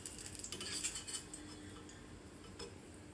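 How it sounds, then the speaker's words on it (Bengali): Fried potatoes are shifted from a wok onto a plate, heard as faint, close metallic scrapes and light clinks of a utensil against the pan and dish, a few quick taps in a quiet room. "এবার এগুলোকে আমি একই প্লেটে তুলে নিচ্ছি"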